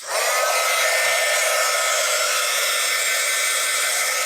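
Heat tool blowing hot air to melt embossing powder on a stamped slimline Christmas card, a loud, steady high whirring roar that holds constant throughout with no speech over it.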